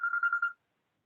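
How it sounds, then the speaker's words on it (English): A phone rings during an online meeting, a short run of about five quick electronic trills at a steady pitch, close and clear, then cutting off into silence. "my phone's ringing"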